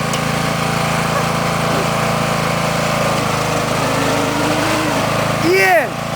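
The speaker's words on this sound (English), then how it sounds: "Fucking lawnmower." A lawnmower engine runs in mud, a loud constant high-pitched drone close by that rises briefly in a sharp revving whine near the end, with voices speaking over it.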